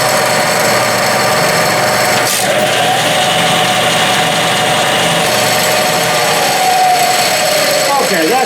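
A 2 or 3 horsepower three-phase electric motor drives a nearly 50-year-old Clausing lathe, humming loudly and steadily close up with faint mechanical rattle throughout.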